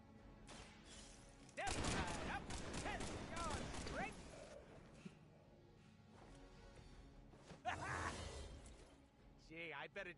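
A Mag Dump gunfire attack in Marvel Midnight Suns: a loud burst of rapid shots and impacts erupts, fades into rumbling debris, then a second heavy hit lands later, with a voice talking quietly at times.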